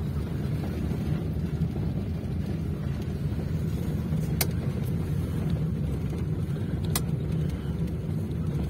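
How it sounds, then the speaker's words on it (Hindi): Traffic jams a road in a rural town that has grown urban, giving a continuous low rumble of engines with wind buffeting the microphone and a couple of faint sharp clicks. "ट्रैफिक जाम जो भी है।"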